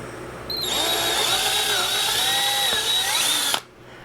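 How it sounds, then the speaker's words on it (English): A power drill whines steadily at high speed for a few seconds, its pitch wavering slightly as it bites, then stops abruptly. "Try not to drill a hole in my finger."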